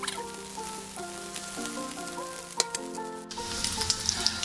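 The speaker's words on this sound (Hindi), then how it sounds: "और जो बचे हुए थे अब हम उन्हें भी फ्राई कर लेंगे।" Leftover paneer pieces fry in hot oil with a strong, crackling sizzle over a faint tonal hum, dotted with pops and a few stirring knocks, and the hiss grows brighter toward the end.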